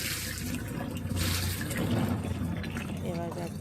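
A child washes their feet under running water, with steady splashing and pouring close by and a voice briefly audible near the end.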